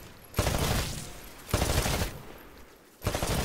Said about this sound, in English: To take a more calculated shot, you can aim down the sights of your weapon. Destroy all of the targets in the shooting range.